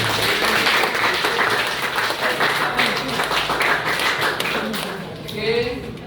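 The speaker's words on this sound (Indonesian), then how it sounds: "Isi tepuk tangan dulu untuk hari ini." A class claps hands together, a dense, steady patter of many hands that keeps going for several seconds, with voices mixed in.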